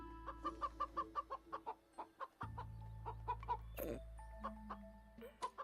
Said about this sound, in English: But yes, indeed, chicken.